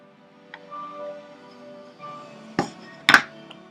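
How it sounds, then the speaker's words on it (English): A marking blade nicks into wood at the corner of a tapered sliding dovetail, two short sharp knocks close by after faint scraping, then a small tap. "I'll ride my blade along that bevel and put a nick right there in the corner"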